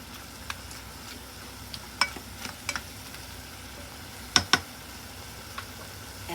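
A spoon scrapes and clicks against a pan while pork fries for nikujaga, soft sizzling under a handful of sharp, sparse stirring knocks.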